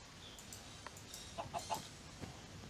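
A chicken in a video game gives a few short, quick clucks in the middle, faint against a soft background hum, with light clicks scattered around and no talk.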